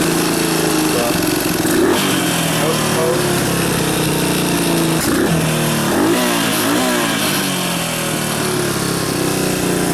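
A 1996 Suzuki DR200S motorcycle engine runs close by, a loud, steady single-cylinder drone that holds without pause, with small rises in revs partway through.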